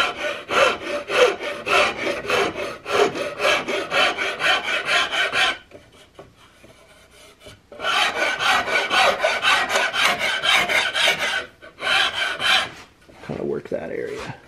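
Large flat file shaping the wooden stock of a CVA Hawken muzzleloader rifle, a rapid rhythmic rasping of close, loud back-and-forth strokes in bursts with short pauses between them.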